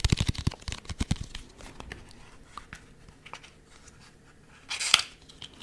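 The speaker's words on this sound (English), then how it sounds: "So please open your deck here." A deck of cards being unwrapped, close and quiet: rapid crinkling and tearing of packaging at first, scattered small rustles and taps, then a louder burst of plastic crackle near the end.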